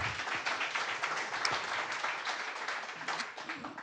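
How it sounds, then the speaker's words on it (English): Applause from a meetup audience at a tech networking event hosted in an office, a brief, moderately loud burst of scattered clapping that fills the room without speech. "Like a little round of applause."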